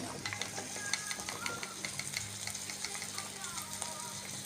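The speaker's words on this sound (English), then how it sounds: "You put a little oil like that. You add your onions" Onions frying in a little oil for a beef and vegetable samosa filling, a soft continuous sizzle with occasional stirring clicks, fairly quiet and free of speech.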